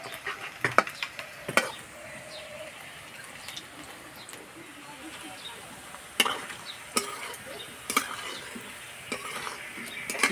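Jackfruit kofta balls fry in hot oil with a steady low sizzle, broken by sharp clinks of a utensil against the pan and occasional stirring scrapes; faint voices murmur in the background.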